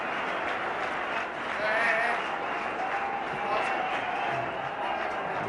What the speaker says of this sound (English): The crowd enjoying it.